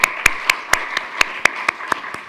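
Steady, evenly spaced claps ring out in a church service as an audience welcomes a couple to the front, about ten crisp hand claps in a regular rhythm over a quiet room.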